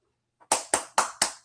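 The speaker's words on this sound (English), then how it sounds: "Clap it up for him." Four sharp hand claps in an even rhythm, close and crisp, with a faint tap just before them and no voices.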